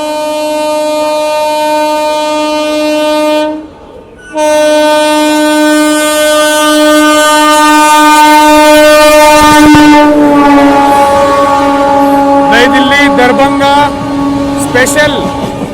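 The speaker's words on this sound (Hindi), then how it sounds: "नई दिल्ली दरभंगा क्लोन अपनी ट्रेन को यहाँ पे ओवरटेक करते हुए" New Delhi–Darbhanga clone train overtaking on the Rajdhani line, a loud, close, sustained horn blast over heavy rolling rail rumble, briefly cut off, then continuing as the train passes.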